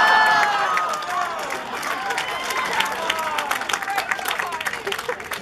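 A convention audience at an anime event claps and cheers together, loud at the start and then settling into scattered applause with some crowd noise and voices mixed in.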